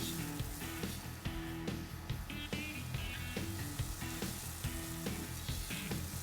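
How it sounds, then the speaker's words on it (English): An egg frying in butter in a pan, a steady soft sizzle running throughout, with a low background hum and occasional light scrapes and taps as the egg is slid around. "you then start to gently slide the egg around so as to make sure that all the butter is absorbed and used"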